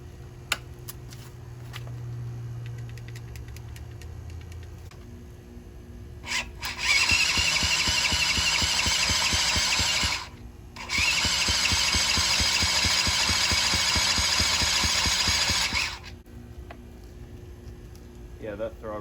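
A $50 mini ATV engine with a seized throttle cable cranks over in two long, loud bursts, a rapid mechanical churning close by, with quieter clicks and fiddling before and between.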